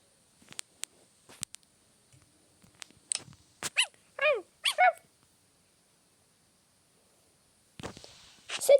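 A playful dog yips, whimpers and gives short barks in scattered bursts, close by and fairly loud, with quiet gaps between the calls and a final cluster of whines near the end.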